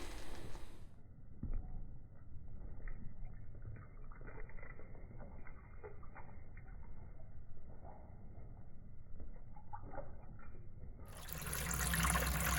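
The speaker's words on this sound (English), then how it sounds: "So the reason why I'm filtering this out is just to get the sugar sand and some of those fines." Maple syrup being poured through a filter to strip out sugar sand and fines: a steady, soft liquid trickle runs for several seconds, framed by brief louder rushing at the start and end, with no talk.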